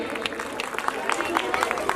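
Audience applause at a Ram Bharat Milap religious stage event in Azadpur, scattered hand claps popping irregularly over a busy murmur of crowd chatter.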